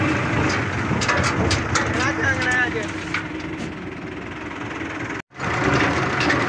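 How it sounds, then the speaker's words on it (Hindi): A 640 tractor engine runs steadily in a village farm setting, a continuous low rumble with a rhythmic knock, loud and close throughout, briefly dropping out near the end. "अब मेरी जान ट्रैक्टर चला रही है 640 की जो चाली है"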